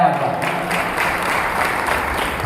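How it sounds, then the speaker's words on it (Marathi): Audience at a religious gathering at a temple applauding, a dense continuous wash of clapping with a voice carrying over it. "यांच्याकरता एकदा जोरदार टाळ्या वाजवा."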